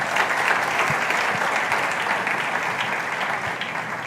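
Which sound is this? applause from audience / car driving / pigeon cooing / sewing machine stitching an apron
applause from audience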